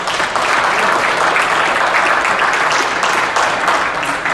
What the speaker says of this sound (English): Big round of applause for these wrestlers right here.